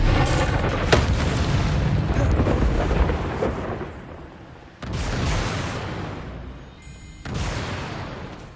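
The Expelliarmus spell effect in the video game Hogwarts Legacy comes as heavy booming, rumbling blasts. One long roar fades, then two more sudden surges follow in quick succession.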